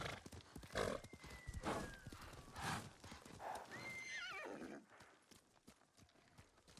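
Horse from the video game Ghost of Tsushima whinnies with a rising, wavering neigh over a steady clip-clop of hooves, fairly close and moderately loud with no talking.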